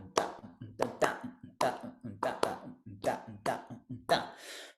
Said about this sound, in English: If we stick those 2 clapping patterns together